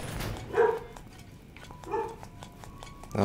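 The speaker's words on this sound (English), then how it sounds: "Oh, be quiet, dogs." Two short bursts of barking from dogs in the video game Zelda: Link's Awakening, spaced over a quiet, faint game soundtrack.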